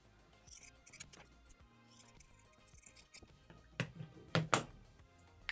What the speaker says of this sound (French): Dans les coins, je recoupe tout petit pour pas avoir de problème